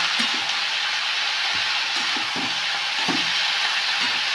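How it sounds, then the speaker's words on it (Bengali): Potatoes and onions fry in a pan for a poppy-seed curry, giving a steady broadband sizzle throughout with a few soft stirring knocks, close and moderately loud, and no talk. "এটা আরেকটু ভাজা ভাজা হোক"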